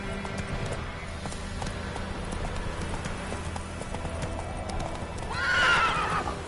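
Horse galloping with steady clip-clop hoofbeats in a PS4 video game, then a loud, close whinny near the end. No talking.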